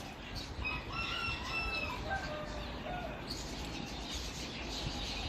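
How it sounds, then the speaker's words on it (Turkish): Araucana rooster and a mixed-breed rooster crowing, several drawn-out crows overlapping at moderate distance over steady outdoor background noise, with no talking. "şu sağ taraftaki Arukuana horozu sol köşede de bizim e, karışık yine mix e, bir horozumuz"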